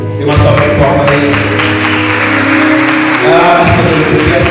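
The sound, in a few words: congregation applause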